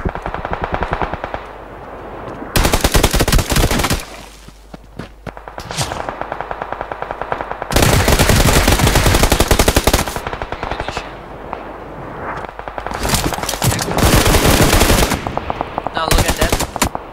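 Bursts of SCAR-L assault rifle fire in PUBG Lite, loud rapid automatic volleys in several separate bursts with quieter gaps of scattered shots between them.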